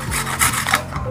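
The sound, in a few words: grating garlic finely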